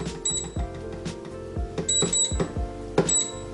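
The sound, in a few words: grill oven beeping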